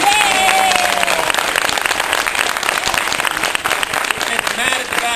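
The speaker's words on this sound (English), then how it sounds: "So why don't we do a round of applause for the leader." A loud, sustained round of applause from a theatre audience at a film screening Q&A, thick continuous clapping mixed with crowd noise and a few cheers, filling the room throughout.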